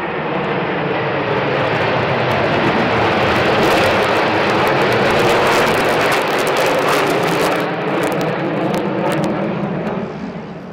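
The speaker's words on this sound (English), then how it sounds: "These were followed by a collection of Su-27s, MiG-29s and Su-25s," A formation flypast of Su-27, MiG-29 and Su-25 jets at an air show roars overhead as a loud, continuous engine rumble that swells and holds, then eases slightly toward the end, with no voices.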